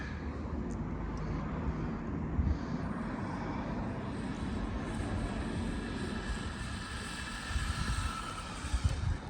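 A Losi 1/12-scale NASCAR RC car on a top-speed run, its motor producing a steady, continuous whine and roar with a few louder bumps. No one speaks.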